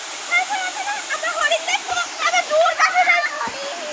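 A waterfall at a deer park rushes and splashes continuously at close range, a bright steady roar with people talking over it.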